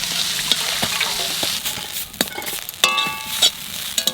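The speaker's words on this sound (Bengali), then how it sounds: "সর্ষে শাক ভাজা হয়ে গেছে," Mustard greens sizzle and crackle in a pan while a utensil stirs and scrapes them, with sharp clinks and bursts of spattering over a steady fry.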